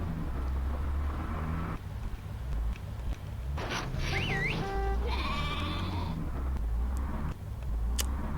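Sheep bleat in a Wallace and Gromit Flash game, a few short electronic bleats and chirps rising over a steady loud background hum and game music, with no talking.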